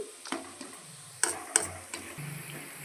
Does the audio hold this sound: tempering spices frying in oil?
yes